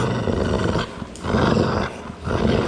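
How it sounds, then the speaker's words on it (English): A large bully-breed guard dog growls deep and loud during training, in three long rumbling bursts separated by short pauses, close to the microphone with no talk over it. "It's a good growl."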